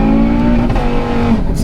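A tuned 520 bhp Audi RS3 engine revs loud and close, holding a steady, droning pitch for over a second before easing slightly, with no one speaking.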